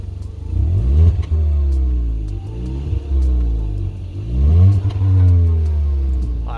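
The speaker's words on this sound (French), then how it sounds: "Donc l'échappement sport hein, qui est monté directement chez Hyundai." The sport exhaust of a 2018 Hyundai i30 N-Line revs repeatedly, with several rising and falling throttle blips over a deep, somewhat muffled rumble recorded close by.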